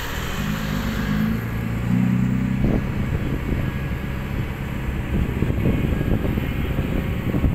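Dump truck driving at a dirt pit, a loud steady engine drone with low rumble and wind buffeting, a brief tonal whine early on and rattling mechanical noise, no talking.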